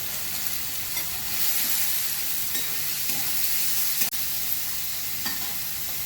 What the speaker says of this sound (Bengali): এবার একটু ভাজা হবে